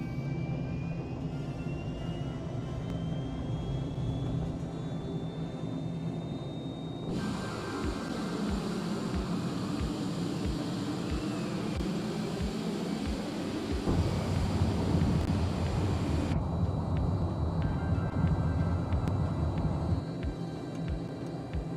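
A light aircraft in Microsoft Flight Simulator makes a short takeoff, its engine droning steadily with a rising whine, then the sound shifts abruptly as the view changes, holding loud continuous engine and wind noise throughout.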